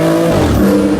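A W Motors Fenyr SuperSport rolls out toward a hill climb with a steady, low, loud engine rumble heard up close over one short moment.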